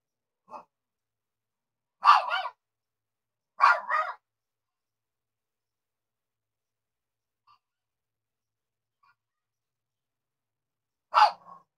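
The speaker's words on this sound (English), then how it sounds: "You hear a puppy outside." A puppy barks outside, heard as four short yips and barks spaced several seconds apart against near silence, faint and distant.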